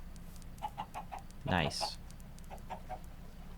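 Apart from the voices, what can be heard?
chickens clucking in a video game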